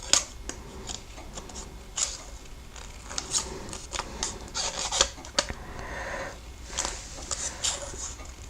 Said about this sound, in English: Your scissors just glide over this vellum.